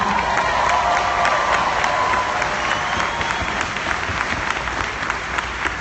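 A large crowd at a motivational homecoming event claps loudly and continuously, dense rapid applause with a faint cheer underneath, sustained at full level throughout.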